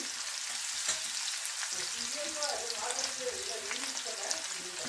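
Leftover idli pieces fry in a pan with a full, steady sizzle and a few soft stirring sounds, while a voice murmurs faintly underneath.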